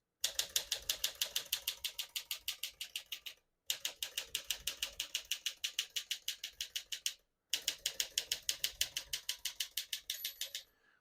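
Rapid, even clacking of keys on a 1954 Smith-Corona Silent-Super portable typewriter in three long runs, separated by brief pauses, close and crisp.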